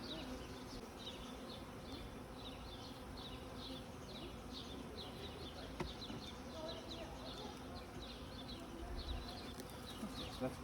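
Roughly 10,000 honeybees from two packages being installed into a hive, a dense, steady buzzing swarm heard faintly at low level throughout.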